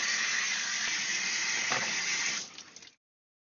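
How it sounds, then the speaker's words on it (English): Water runs hard and steady from a tap for close to three seconds as an aquarium item is rinsed off, a broad hissing gush that splutters briefly before stopping abruptly into silence. "And rinse this thing off."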